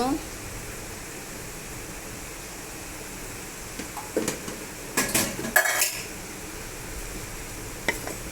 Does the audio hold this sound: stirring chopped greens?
yes